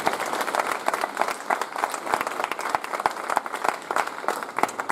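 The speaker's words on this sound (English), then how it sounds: "Another huge round of applause for our prize winners, but also for our performers." Audience applause at a Rolleston College Year 10 prize giving, a steady patter of many hands clapping with sharp individual claps standing out, sustained throughout at moderate loudness.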